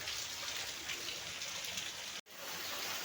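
Heavy rain pours in a steady, dense hiss, faint and unbroken apart from one brief cutout near the end.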